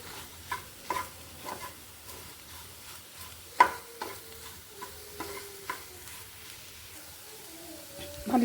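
Bottle gourd and egg stir-fry being stirred in a pan, with repeated spatula scrapes and knocks over a low sizzle, the strokes coming in an irregular rhythm close by.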